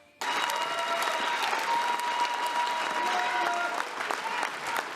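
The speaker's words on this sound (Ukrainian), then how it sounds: "глядачі аплодують стоячи" Standing ovation in a regional drama theatre hall at a Christmas concert: a large crowd applauds loudly and evenly for several seconds after a sudden start.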